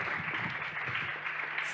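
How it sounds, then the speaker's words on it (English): A conference audience gives a round of applause to a journalism panel, a steady, moderately faint spread of clapping lasting just under two seconds with no talk on top. "Round of applause to our panel"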